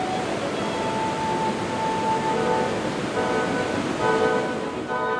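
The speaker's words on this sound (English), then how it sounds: "The fury of the water and its deafening roar creates an indescribable and memorable experience." Water at Niagara's Bridal Veil Falls roars as a dense, unbroken broadband wash at steady loudness, with a few faint tonal whistles drifting through and no voices.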